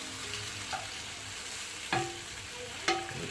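Bacon sizzles steadily in a pan, a constant soft frying hiss broken by a few sharp scrapes and clinks as the strips are pushed around, with no talking.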